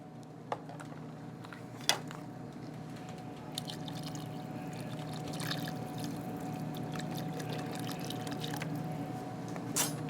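Six cups of no-salt beef broth poured into a soup pot, a quiet, steady liquid stream with occasional small drips and splashes, heard close and alone for several seconds.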